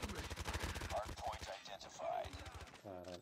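Rapid automatic gunfire in the mobile game Call of Duty Mobile on the Shipment map, a fast, continuous rattle of shots close up, mixed with other game effects and brief voices.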